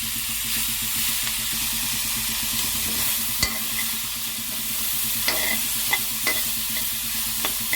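Onions are stirred and sautéed in a pan on the stove, giving a constant close sizzle broken by occasional sharp clicks of the spoon against the pan, with no voices.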